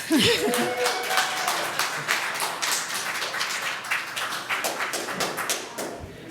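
Scattered hand clapping fills a city council chamber in Albany after a motion passes, a brief uneven burst of claps with a few murmuring voices and thumps underneath.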